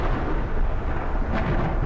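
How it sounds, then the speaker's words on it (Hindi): Thunder from a storm outside rumbles low and continuous, a heavy, steady roll that stays loud for a couple of seconds with no voices over it. "बाहर बिजली कड़क रही है"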